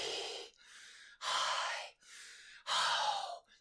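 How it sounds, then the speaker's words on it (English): A person makes voiceless, breathy ha, he, hi, ho sounds as a vocal warm-up exercise: a series of close, airy exhalations separated by short gaps, some stronger than others, with no voice behind them. "we're going to be making the ha, he, hi, ho sound, but with no voice."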